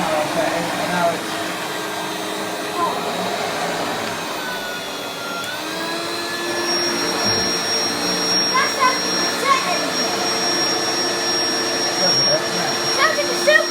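A refurbished 1994 Hoover Turbopower 2 Autosense U2464 vacuum cleaner hums steadily on its low power setting, a continuous broadband whine with a small pitch shift midway, while people talk over it nearby.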